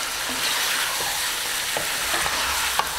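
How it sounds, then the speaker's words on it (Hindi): A kilo of medium-cut chicken pieces fries and is stirred in a karahi, giving a steady, fairly soft sizzle broken by a few scraping clinks from the stirring. "इसमें मैं 4 से 5 मिनट तक भूनूंगी, इसका कलर चेंज होने तक"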